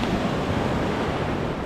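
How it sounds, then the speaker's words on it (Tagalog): Ocean waves breaking on a shore in the dark, a continuous loud wash of surf with wind noise buffeting the microphone, and no voices. "kung maririnig niyo naman yung talbog ng alon, no, yung pagpisa ng alon"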